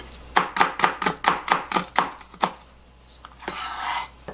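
Knife chopping green onion and carrot on a board for Korean street toast: about ten quick, sharp, close taps in a steady rhythm, then a pause, a few scattered knocks and a short rustle.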